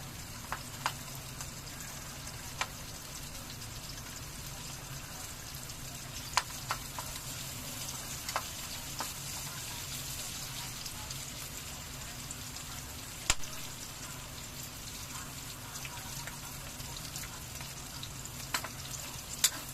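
Garlic and onion sauté in a pan for adobong tofu with kangkong, giving a steady, moderate sizzle throughout with occasional sharp ticks and pops, no talking.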